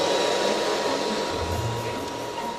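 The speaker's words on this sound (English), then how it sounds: "So we'll just pop the dryer on now." A hair dryer blows steadily on grain being dried, a loud close continuous whoosh with a slight drop in pitch partway through, with no talking.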